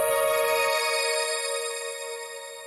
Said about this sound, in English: So with the crystallizer, it sounds like this.